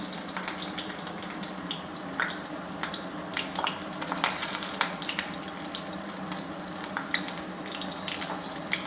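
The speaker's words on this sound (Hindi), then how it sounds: "ये कढ़ाई गर्म हो गई है, जीरा डाल दिया हमने और ये मैंने डाल दिया लहसुन" Garlic and cumin sizzling in a hot kadhai, a steady close hissing crackle with scattered pops throughout, no talking.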